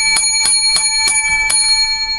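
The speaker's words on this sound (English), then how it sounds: "7 bells for this great show." A bright, ringing bell is struck five times at a brisk, slightly uneven pace, each ring leaving a clear sustained metallic tone that hangs on afterward.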